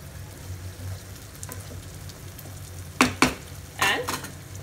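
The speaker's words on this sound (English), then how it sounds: "Now mix it very gently." Fish curry with ghee being gently mixed in a pan: a low simmering bubble under a soft hiss, then a few distinct scraping strokes of a spoon against the pan near the end.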